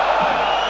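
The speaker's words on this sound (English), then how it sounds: "Crowd are getting noisy." Rugby stadium crowd at a Heineken Cup match between Clermont Auvergne and Wasps, a loud sustained roar of cheering that fills the whole moment with no break.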